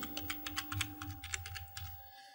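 Rapid keystrokes on a computer keyboard as a password is entered while setting up a cluster administrator in 1C:Enterprise, a steady run of close clicks over a low background hum, no talking.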